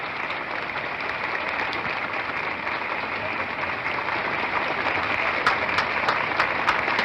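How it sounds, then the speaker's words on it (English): Sustained applause from a graduation crowd, thick continuous clapping at steady loudness, with a few sharper individual claps standing out near the end. "Quiet, aside from the applause."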